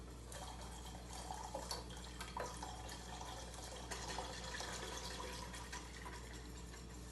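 Two cups of warm milk poured slowly into a pan, a soft continuous liquid trickle and splash, faint and steady over a low background hum.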